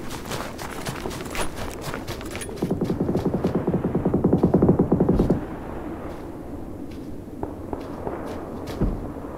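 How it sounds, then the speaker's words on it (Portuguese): Gunfire close by in a video game, a rapid rattling burst of shots in the middle, with scattered single cracks before and after against a quieter background. "é muito tiro perto da gente"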